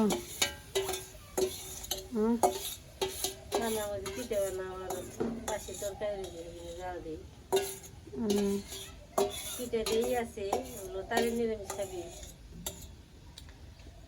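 Morning cooking in a village home kitchen in Bangladesh, with pots, pans and utensils clinking and stirring in scattered bursts, mixed with nearby talk throughout.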